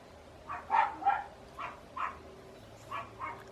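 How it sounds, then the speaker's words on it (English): A dog barks repeatedly in short bursts, somewhat muffled and distant as if from beyond a wall, with pauses between the yaps. "Don't mind the dog next door."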